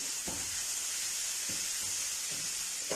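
Chopped green chillies dropped into softened frying onions for a Pakistani potato samosa filling give a steady, soft sizzling hiss, broken by a few faint low knocks.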